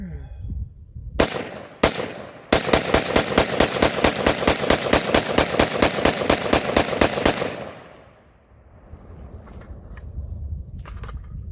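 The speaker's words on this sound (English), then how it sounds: "I'm just going to mag dump the rest of this" Magazine emptied at a shooting range: two separate shots, then a long rapid string of close, loud reports in a steady fast rhythm that stops abruptly, followed by fading echo and quiet outdoor noise.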